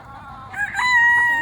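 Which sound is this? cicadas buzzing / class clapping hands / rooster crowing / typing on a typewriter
rooster crowing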